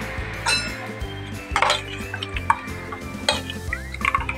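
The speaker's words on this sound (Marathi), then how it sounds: "हळद मिक्स करायची।" Spoon stirring turmeric into kadhi batter in a metal pot, with a few scraping strokes and clinks against the rim, close up and without talk.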